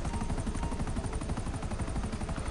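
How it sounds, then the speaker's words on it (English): A heavy machine gun fires from a helicopter in GTA, a loud, unbroken stream of fast, evenly spaced thumping shots over a rumbling low end. "I'm assuming the co-pilot can also fire the guns. It's a, like a heavy like machine gun."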